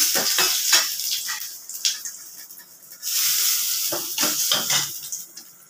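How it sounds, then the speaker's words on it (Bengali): Bay leaf and white cumin seeds temper in hot oil in a kadai, giving a hissing sizzle broken by sharp clinks and scrapes of a metal spoon stirring, close and fairly loud. "পরিমাণ মতন তেল দিয়ে দিয়েছি, তেজপাতা দিয়ে দিলাম, একটু সাদা জিরে ফোড়ন দিয়ে দিলাম"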